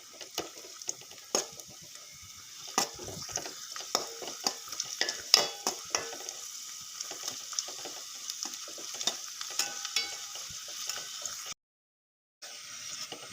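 Raisins fry in a pan with a steady crackling sizzle and frequent stirring clicks and scrapes close by, then a brief moment of silence near the end.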